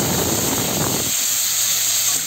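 Tomatoes dropped into hot oil in a pan give a loud, steamy hiss and crackle that drops sharply after about a second, then settles into a steady, softer sizzle for cooking chole paneer.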